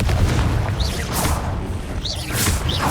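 The Confringo fire spell in the video game Hogwarts Legacy, cast over and over: loud rushing whooshes and deep booming impacts that repeat roughly every second over a rumbling low background.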